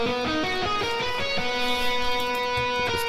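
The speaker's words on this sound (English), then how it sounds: "But I add a guitar rig onto it." An electric guitar plays a melody through Guitar Rig effects, plucked notes in quick succession ringing out with shimmering sustained tones, up close and with no voice.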